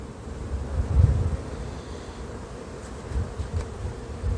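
Honeybees buzz around a hive during a transfer, a dense, steady swarm drone with low rumbling handling noise and no talk.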